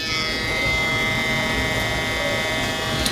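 A BRDCLIP G27/G28 hair trimmer running close and steady at roughly 9,500 to 10,000 RPM, a continuous high buzzing whine with no pauses.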